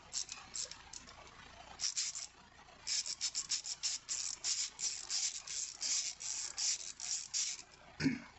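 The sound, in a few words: ratcheting screwdriver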